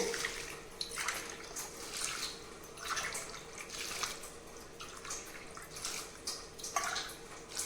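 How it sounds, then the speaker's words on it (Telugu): Water is poured from a glass into a pot of toor dal, making soft splashing, gurgling pours in several separate bursts, fairly quiet and close, with no voices. "మీరు ఏ గ్లాస్తో అయితే కందిపప్పు వేసుకున్నారో అదే గ్లాస్తో 5 గ్లాసెస్ వాటర్ యాడ్ చేసుకోండి"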